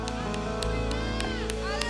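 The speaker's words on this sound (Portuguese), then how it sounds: "Você pode aplaudir mais forte?" A church congregation applauds, a dense and steady wash of clapping that lasts throughout, with crowd murmur and voices mixed in.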